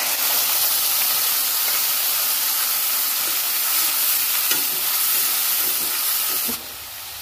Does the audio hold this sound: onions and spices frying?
yes